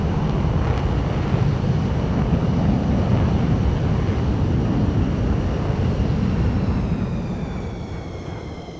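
Small airplane engine at full power on takeoff, a loud, steady, broadband roar close to the microphone with heavy rushing wind noise throughout, easing off slightly near the end.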